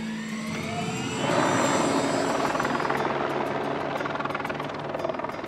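A helicopter flies over the mountains of Andorra, its rotor a loud continuous chopping whir with engine whine, close and steady throughout, with no voices.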